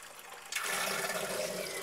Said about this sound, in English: there goes the sump again